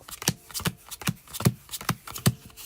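Trading cards riffled in a steady shuffle, six or seven crisp bursts about every 0.4 seconds, close and clear with no talk over them.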